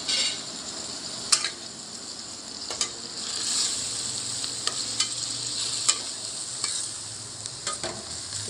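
Onions sizzle in hot oil in a pan while being stirred, with steady frying hiss and intermittent scraping clicks of a utensil against the pan, close and clear, with no talking.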